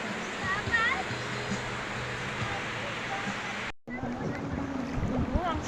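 Calm sea water washing steadily along a beach, a continuous broadband rush with faint voices and brief chirps over it, briefly cut out midway.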